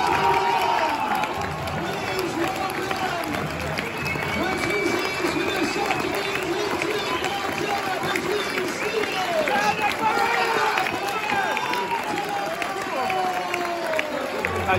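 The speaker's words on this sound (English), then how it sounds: "Just by the reaction of the crowd, you can tell the severity of this game" A big, busy crowd at Sixfields stadium roars and cheers through a League Two football clash between Northampton and Stevenage, a steady dense wash of voices with swells of shouting and clapping throughout.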